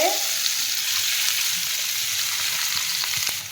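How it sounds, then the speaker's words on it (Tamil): Curry leaves and onions frying in hot oil in a pan, a loud, dense, continuous sizzle close up with some stirring, no speech. "கருவேப்பிலை கொஞ்சம் எடுத்துக்கணும் அதையும் நல்லா எண்ணெய் சட்டியில் போட்டு"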